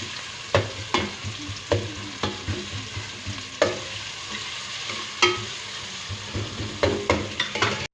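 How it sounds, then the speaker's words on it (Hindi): Onions and cumin seeds frying toward a light golden colour, a loud continuous sizzle with regular scraping stirs every second or so. "प्याज को अच्छे से फ्राई करना है लाइट गोल्डन कलर में।"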